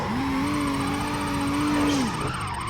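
Car engine holding a steady high whine as a car drifts in a Fast and Furious video game, sustained for about two seconds before dropping off, with a faint tire hiss in the background.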